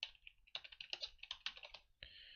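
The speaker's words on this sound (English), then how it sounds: "go to the search bar here and type in post effects stack." Quick, close-up clattering keystrokes on a computer keyboard as a phrase is typed into a search bar, a rapid irregular burst of clicks lasting about two seconds with no talk.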